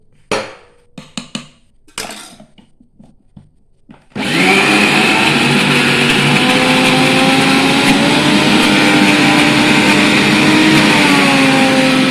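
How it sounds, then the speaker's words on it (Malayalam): Coconut chutney with extra water churns in a kitchen mixer grinder, which starts up abruptly after a few sharp knocks and handling noises, then runs loud and steady with a whining, wavering motor tone until the end. "കുറച്ച് വെള്ളം കൂടി ചേർത്ത് നന്നായി അരച്ചെടുക്കണം"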